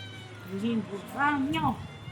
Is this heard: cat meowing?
yes